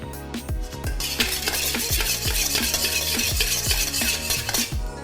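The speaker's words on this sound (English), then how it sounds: "Straight back on the high heat, we're going to flash fry your vegetables." Vegetables for a spring roll filling flash-fried in a little oil in a very hot wok, with steady loud sizzling and repeated rhythmic scraping and clanking of a utensil against the wok throughout.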